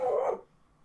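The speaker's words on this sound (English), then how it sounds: "It's barking" A single dog gives a short, close bark that cuts off sharply, leaving near silence.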